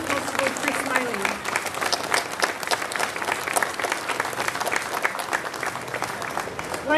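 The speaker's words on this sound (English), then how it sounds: "Another round of applause again for South Australia Police Officer of the Year 2024, Senior Constable Chris Maley." An audience applauds steadily at a ceremony honouring South Australia's Police Officer of the Year 2024, the clapping sustained and fairly close for several seconds, with some voices mixed in underneath.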